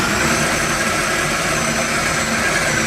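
Blender running on low speed with banana-based nice cream inside, a steady close churning whir with a coarse, grinding texture and no pauses.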